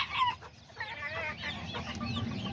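Aztecas and Serama hens and roosters cluck and chatter close by, overlapping bursts of fowl calls with a low rooster-like note, lively and continuous without any talking.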